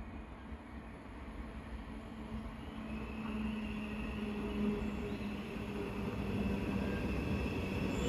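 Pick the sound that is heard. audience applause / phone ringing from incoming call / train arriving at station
train arriving at station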